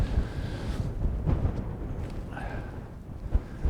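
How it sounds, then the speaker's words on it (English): Strong wind gusting across open moorland in the Peak District, a loud continuous buffeting rush hitting the microphone with rumbling surges. "It's very windy though"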